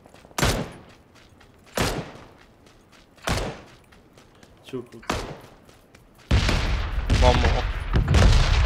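Gunfire rings out in PUBG: single loud shots crack about every second and a half, then a dense, sustained burst of firing takes over. A voice speaks briefly among the shots.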